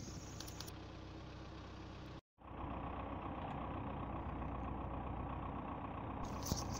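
A tractor engine runs steadily at night while spreading fertilizer on a wheat field, a continuous close droning rumble with a brief cut near the start, no talk.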